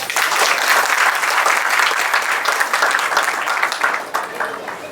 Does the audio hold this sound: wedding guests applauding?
yes